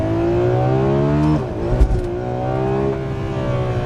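The V12 of a Ferrari 12Cilindri revs hard and close, its note rising, dipping briefly with a mechanical clatter of a gear change, then climbing again, loud and continuous with no talk.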